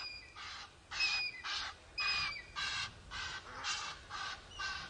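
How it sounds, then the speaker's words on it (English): An angry squirrel gives its alarm call at a dam on a morning safari drive: about eight rhythmic, raspy chattering bursts in steady succession, moderately distant and clear over quiet outdoor ambience, with no talking. "Don't you think a squirrel alarm call sounds like a witch's cackle?"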